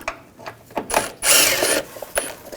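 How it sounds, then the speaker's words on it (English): A ratchet wrench with an 8mm socket loosening bolts on a 2000–2006 BMW X5 front lower control arm, giving close, loud bursts of rapid clicking pawl ratchets with short pauses between strokes. "So we're gonna take these bolts out, use a 8mm socket."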